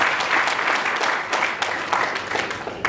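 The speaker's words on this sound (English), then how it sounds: "Give a huge round of applause for MD Alimullha." Steady, dense applause from an audience at a university World Math's Day event, loud and close for the whole stretch with no talk over it.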